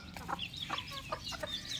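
Several hens cluck in short, irregular calls close by, with chirpy higher notes in between and a steady farmyard background.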